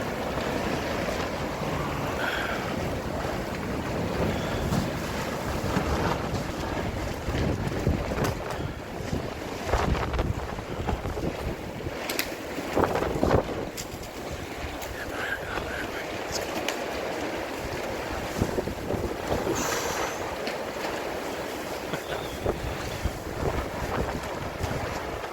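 Strong wind blowing at night in a harbour at Varazze, with boats and water nearby; a steady, roaring gust noise with buffeting on the microphone that rises and falls throughout, along with faint talk.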